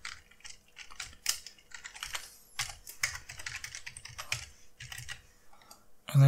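Rapid keystrokes tapped on a Mac keyboard while entering a password, a steady run of close, crisp clicks with brief pauses and a heavier thump at the end, with no voices.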